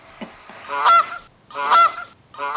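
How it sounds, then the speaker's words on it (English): Seals barking near a seaside boardwalk: two loud, honking barks about a second apart, each rising and falling, with no talking. "There's seals by the boardwalk."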